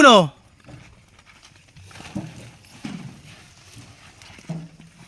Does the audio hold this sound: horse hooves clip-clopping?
yes